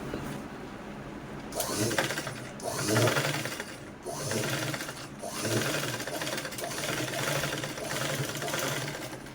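Half shuttle household sewing machine stitching through a rubber sheet, a steady mechanical whirring run of stitches with brief pauses between bursts, close and fairly loud, no voices.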